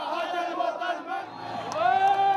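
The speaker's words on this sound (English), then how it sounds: "he was drowned out by the chanting" Protesters at a street demonstration chant together in a massed crowd, rhythmic shouted voices rising and falling, with the chant swelling louder toward the end.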